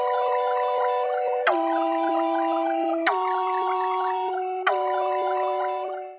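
Warm analog synth chords play in sequence, four sustained chords each struck cleanly and ringing with bright harmonics, no voices.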